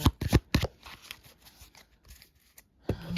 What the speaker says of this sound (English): So I'm gonna shuffle through this one more time.